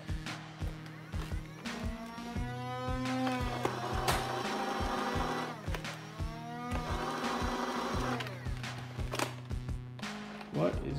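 A Nerf Elite Hyperfire blaster fires regular Nerf darts in rapid bursts, its flywheel motor whirring up and down in repeated cycles with sharp clacks between shots, close and loud with talking over it.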